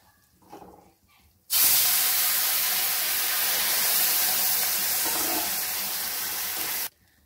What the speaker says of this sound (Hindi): अब इसमें डालूंगी मैं पानी।